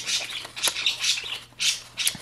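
Birds squawking indoors in a paper-crafting room, several loud harsh calls in quick bursts, close by and with no talk over them.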